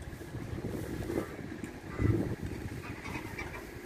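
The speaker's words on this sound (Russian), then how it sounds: "Видите, какой у нас ветер?" Gusty wind buffets the microphone outdoors in a garden, with low rumbling thumps and a rising rush around the midpoint.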